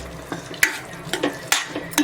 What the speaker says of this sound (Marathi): आता त्यामध्ये आपण हा फणस जो बारीक करून घेतलाय तो सर्व घालून घेऊया। हे बघा असं मिक्स करून घेऊया